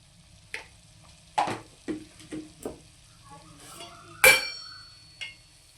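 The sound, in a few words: raw banana pieces frying and stirred in oil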